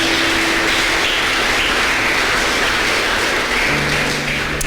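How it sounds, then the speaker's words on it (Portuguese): A church congregation applauding during a service, dense clapping that stays loud and steady for the whole stretch without a break. "Aplaude o Senhor por isso."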